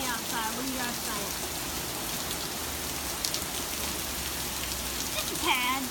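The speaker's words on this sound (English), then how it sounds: "It's just a little bit rainy outside." Steady rain patters outside in a dense, even hiss of drops on surfaces, with a voice talking briefly over it near the start and end.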